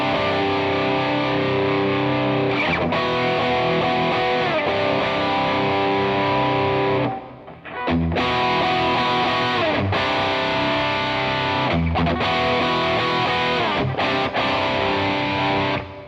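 An electric guitar fitted with Fender Custom Shop pickups is played with heavy gain in loud, continuous distorted riffs, with one brief pause partway through and a few short breaks later on.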